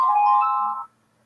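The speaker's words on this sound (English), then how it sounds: "pick it up, that's my phone." A mobile phone ringtone chimes loudly and close for under a second before cutting off abruptly into silence.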